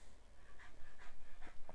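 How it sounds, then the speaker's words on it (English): A dog that has just burst into a room, panting in quick, rhythmic breaths with faint whimpers, close by against a low background rumble. "My dog just came flying in here."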